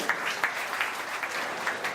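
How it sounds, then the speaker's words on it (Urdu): An audience at an outdoor public gathering with poetry recitation in Byculla, Mumbai, applauds to welcome guests; steady, fairly distant clapping with periodic louder bursts runs through the whole stretch without speech. "زوردار تالیوں سے استقبال کریں۔"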